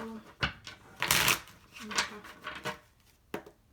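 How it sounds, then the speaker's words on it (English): Playing cards are riffled and shuffled in several quick bursts, close by, with brisk flapping and snapping between pauses. "One more shuffle."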